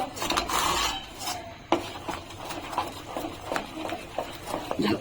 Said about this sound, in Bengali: এখন এটাকে নাড়াতে হবে। এখন নাড়িয়ে যাব, থামানো যাবে না কোনতে।